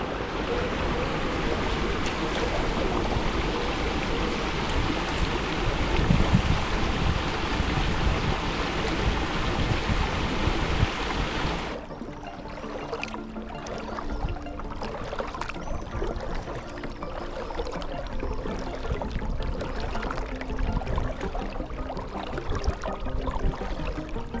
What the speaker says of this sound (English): the water inlets are still pouring into the river